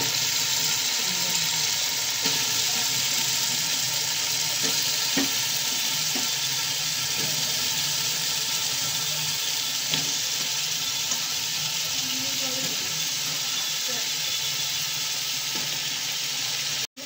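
Cut potato pieces sizzle in hot oil in a pan while katla fish curry is being made, a steady close crackling fry with occasional stirring clinks throughout.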